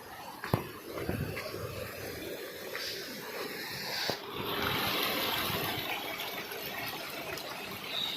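Meltwater from melting ice running steadily in a mountain stream, a broad continuous rushing and gushing that grows fuller partway through, with a couple of sharp knocks near the start.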